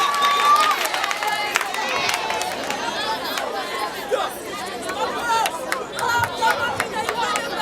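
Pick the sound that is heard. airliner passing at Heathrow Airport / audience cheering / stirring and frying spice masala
audience cheering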